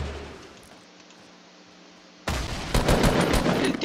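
Rapid automatic gunfire in the Fortnite video game bursts in loudly after a quieter stretch of ambient game noise, sustained rattling shots continuing to the end.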